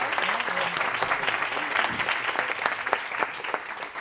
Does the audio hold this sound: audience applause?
yes